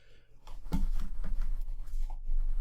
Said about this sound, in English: I'm just going to write these down